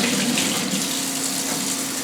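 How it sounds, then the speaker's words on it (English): Tap water runs steadily from a faucet while a polishing pad is rinsed under it, a continuous close hiss and splash with no voices. "Turn that water off, folks."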